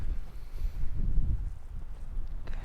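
Cold wind gusts at the seaside in Cervantes, Western Australia, buffeting the microphone in low rumbling waves that rise and fall, loud and close, with no voices.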